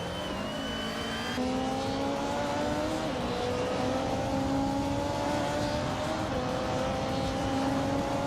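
Race cars, including a 1991 Renault Clio and retro DTM cars, run together in a racing video game, a continuous loud engine drone with shifting revving tones and no breaks.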